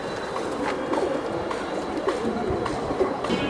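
Silver hammer pigeons coo softly in a loft over constant background hiss and murmur, the calls faint and scattered.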